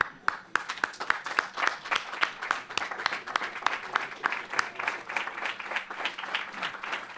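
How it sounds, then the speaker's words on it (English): An audience at a closing keynote gives the winners a standing ovation, with a steady round of clapping from a moderate crowd heard at a distance throughout and no talk over it. "why don't we all just stand up for a second and give them a standing ovation"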